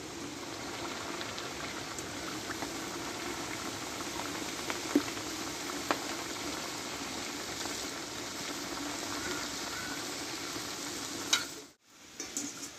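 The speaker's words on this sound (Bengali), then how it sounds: "এই বাকিগুলো ভেজে নেব" Pointed gourd (potol) snack pieces frying in hot oil give a steady, dense sizzle and bubbling throughout, with a few sharp pops and a brief dip near the end; no one speaks.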